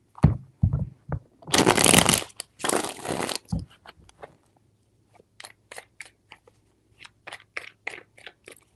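Tarot cards being shuffled in several quick riffling bursts, loud and close, followed by softer scattered taps and card flicks.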